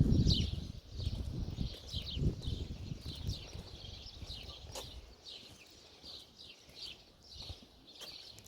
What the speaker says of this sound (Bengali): প্রচুর পাখির কিচিরমিচির শব্দ শুনতে পাওয়া যাচ্ছে।